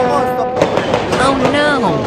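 New Year fireworks crackle and pop in a fast, dense burst under the lockdown celebration, with people talking and shouting excitedly over the bangs.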